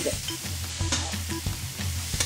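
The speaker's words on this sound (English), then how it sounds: "Time to stir fry the squid." Squid stir-frying in a pan, a lively sizzle with repeated clattering scrapes and knocks of a utensil in an uneven rhythm, close and fairly loud, without speech.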